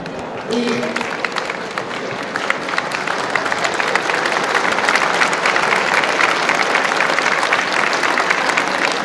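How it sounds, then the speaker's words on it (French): An audience gives a big, sustained round of applause to thank dignitaries and partners at a French municipal arts event, dense loud clapping throughout, with some voices mixed in at the start. "Je vous demande un grand applaudissement pour remercier toutes les personnalités et les partenaires."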